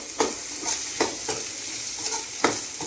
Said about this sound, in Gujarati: ભાત વઘારવા છે જો